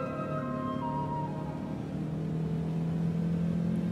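A car engine drones steadily while the car is being driven, a continuous mid-pitched hum with a low rumble that holds an even level throughout, with no voices over it.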